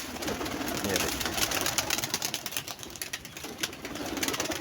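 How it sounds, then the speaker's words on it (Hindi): A flock of pigeons flutters up with a burst of flapping wings, soft cooing underneath, heard close by with faint voices nearby. "ये देखें दोस्तों, कबूतर उड़ा दिए हैं।"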